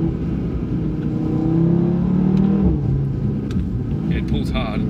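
A tuned Audi RS3 accelerates hard, its engine rising in pitch and swelling loud through the middle before easing off, heard from inside the car with road rumble beneath and speech alongside.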